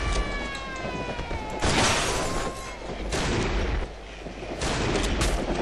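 Gunfire in the horror game Cry of Fear during a co-op session: several loud broadband shots at about 1.6, 3.1 and 4.9 seconds, each followed by a sustained roar, with game tones and ambience between them.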